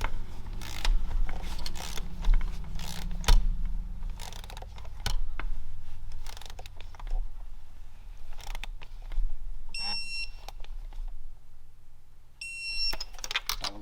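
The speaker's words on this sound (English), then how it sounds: "Now we're going to get through and torque all 6 of them to 23 foot-pounds" Socket and torque wrench work on the spark plugs of a BMW 325, scattered metallic clicks, ratchet ticks and tool clinks up close, including two brief high-pitched ringing tones, with no voices.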